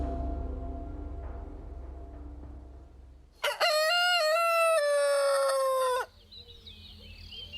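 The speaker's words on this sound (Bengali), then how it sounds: "পরদিন আমার ঘুম ভাঙল মোরগের ডাক" A rooster lets out one loud, close cock-a-doodle-doo lasting a few seconds, preceded by a faint low rumble and followed by quieter distant bird calls.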